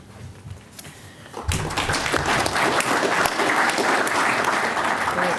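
After a quiet second or so, a crowd bursts into loud, sustained applause, many hands clapping densely and steadily to the end.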